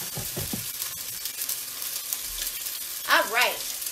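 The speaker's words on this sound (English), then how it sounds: "So I'm going to put it down in the oil." Chicken pieces hitting hot oil for a quick chicken curry, giving a steady broad sizzle and crackle throughout, with a few brief louder spits and pops near the end.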